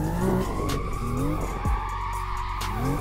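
BMW M2 sliding sideways around a drift park in Assetto Corsa, loud tire squeal layered over a revving engine, with pitch swings as the throttle shifts and a sharp downward sweep midway.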